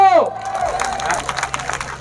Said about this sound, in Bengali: একবার জোরে হাততালি হোক দাদার জন্য